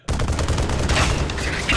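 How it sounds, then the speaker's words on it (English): Automatic LMG firing explosive projectiles in an Unreal Engine 4 third-person shooter template, a continuous rapid burst of dense shots and booms lasting the whole moment, loud and close. "the heavy weapon, the third weapon, is a LMG, which is a automatic projectile explosive weapon"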